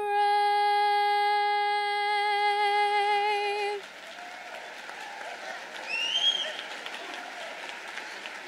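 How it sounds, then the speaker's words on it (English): After a sustained sung final note of the national anthem at a 2017 State of the City address, an audience breaks into steady, moderately loud applause that continues for several seconds. "Let's give young Arrington another round of applause"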